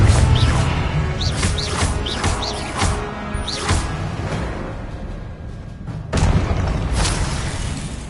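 Explosive blasting spell in Hogwarts Legacy combat, a string of loud, punchy bursts and crashes, several in quick succession, then a brief lull before two more strong blasts near the end.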